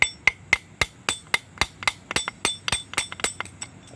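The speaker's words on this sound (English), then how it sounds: "I'm not using a dead blow. I'm using a real hammer." A steel hammer strikes an LT1 water pump drive gear in a fast run of about twenty sharp metallic blows. The rhythm is uneven, each hit ringing close and loud with no talking.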